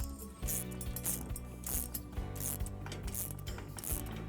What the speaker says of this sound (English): we can tighten that one up with the spanners